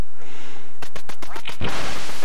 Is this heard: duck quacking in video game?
yes